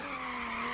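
Car tires skidding and squealing through a drift in Forza Horizon 3, a long rear-wheel-drive car sliding; a steady, close, loud screech with a sustained high tone over engine drone for under a second.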